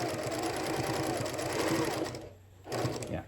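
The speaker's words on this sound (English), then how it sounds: "And I'll go ahead and start sewing right here." A sewing machine stitches a seam on a reversible Christmas tree fabric gift bag, a fast steady mechanical whir close up, pausing briefly before starting again.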